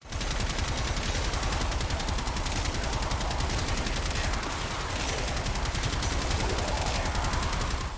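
Rapid sustained gunfire from the Gotva Prime weapon in Warframe, an unbroken stream of fast rhythmic shots at steady loud volume throughout, with no voices over it.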